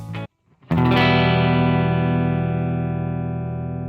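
A brief note cuts off into a short gap, then a minor chord strikes and sustains loudly with distorted, effected tone, slowly fading over about three seconds; nobody talks.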